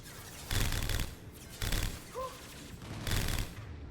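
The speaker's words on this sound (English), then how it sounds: "Firing concussive shot." Concussive shot ability fired in Mass Effect 2 Legendary Edition, heard as three separate muffled blasts with low booming thumps, spaced about a second apart, with a brief tonal whine between them.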